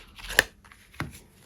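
Two tarot cards drawn from a deck, each a quick crisp slide and snap of cardstock, about half a second apart, close and fairly quiet.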